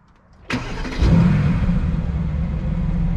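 A 2016 Mercedes-AMG GT S fires up at close range: a sharp starter catch, then a loud exhaust flare that settles into a deep, steady idle rumble, with no speech.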